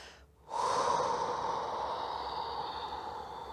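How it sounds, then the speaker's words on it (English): A single long breath pushed out through the mouth during a fitness session, a steady close airy rush that starts abruptly and holds evenly for about three seconds. "Now one long breath out through the mouth."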